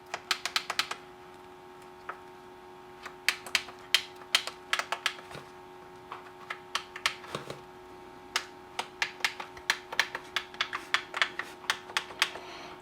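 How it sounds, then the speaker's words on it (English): Tactile switches on an M&S Systems Model N350 intercom are pressed one by one, giving a string of sharp, close clicks in uneven bursts with short pauses between them. "now we'll go through and press each one to make sure they all click"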